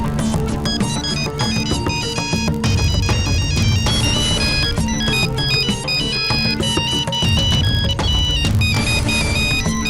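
A melodic phone ringtone chimes loudly and continuously, its bright repeating electronic tones layered over a steady bass-heavy backing beat, carrying on without pause and with no voices.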